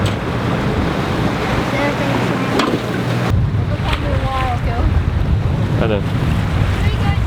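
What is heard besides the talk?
sailing boat moving through waves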